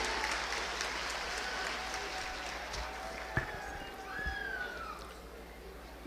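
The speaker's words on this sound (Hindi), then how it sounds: "जोरदार तालियां उनके लिए होनी चाहिए।" Crowd applause for Union minister Nitin Gadkari at a public event in Bihar, a broad, fairly faint wash of clapping that runs throughout and thins slightly toward the end, with a few brief sharper sounds mixed in.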